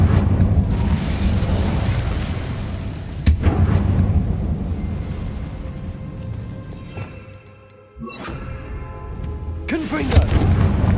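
Bombarda and Incendio spell blasts in the game Hogwarts Legacy, heavy booming bursts over a dense, continuous rumble of game effects and music, with a sharp crack near the middle and another late surge.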